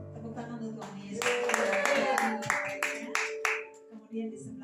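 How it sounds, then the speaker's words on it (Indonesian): A church congregation claps hands in praise during an Indonesian worship service, a dense burst of many hands clapping over sustained music, tapering off after a few seconds. "Tepuk tangan untuk Tuhan Yesus."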